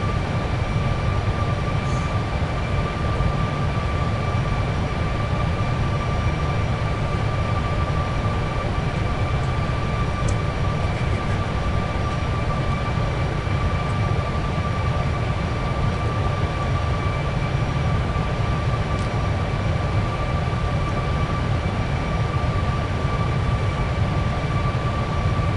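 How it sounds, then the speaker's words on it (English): Airliner reverse thrust on the landing rollout in a PMDG flight simulator, a steady loud broadband engine roar with a low rumble and faint tonal whine, continuous and unchanging throughout with no talk. "when all our wheels are along the ground, we initiate the reverse thrusters, and we do this by holding down F2"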